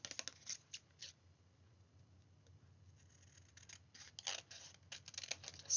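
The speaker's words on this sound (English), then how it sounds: "I'm going to cut" Scissors cut through a coloured paper panel in bursts of quick crisp snips, with quieter stretches between them, close and clear against a silent background.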